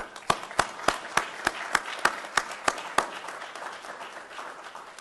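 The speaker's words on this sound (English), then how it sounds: "So a round of applause to all of our FLETC instructors and staff, please." A small crowd at a FLETC ceremony applauds briefly, with about a dozen distinct claps standing out at a steady rhythm before the sound fades into a softer patter.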